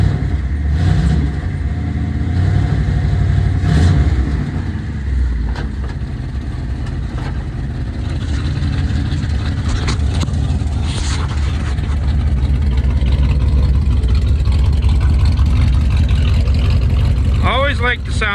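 A 1958 Edsel hardtop idles, its engine rumbling steadily and loudly through the exhaust pipes, with the low throb holding even across the whole stretch and a brief flutter near the end.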